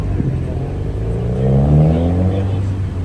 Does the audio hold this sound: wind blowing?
no